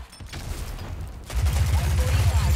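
Rapid gunfire erupts in a Rogue Company match, a dense sustained volley of close shots that starts partway through after quieter ambience, loud and continuous to the end.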